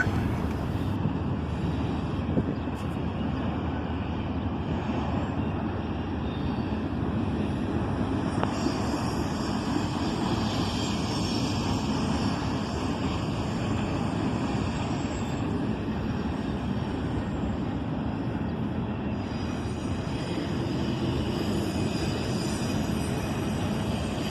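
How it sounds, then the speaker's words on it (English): A southbound intermodal freight train led by a single ES44AC diesel locomotive rumbles past close by, a loud, continuous roar of engine and rolling wagons that holds steady for the whole stretch. "Southbound daily intermodal traffic, with a single ES44 ACH leading the train."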